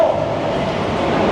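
An LRT light rail train rumbles at EDSA station in Pasay, giving a loud, steady, close roar of wheels and motors with no pauses.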